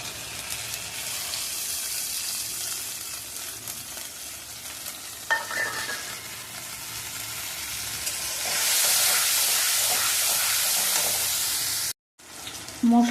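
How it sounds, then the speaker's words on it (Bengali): Spice paste fries in a pan, a steady close sizzle with occasional stirring scrapes that swells into a louder hiss midway, then cuts out briefly near the end; no talking. "মশলাটা ভাজা ভাজা হয়ে গেছে"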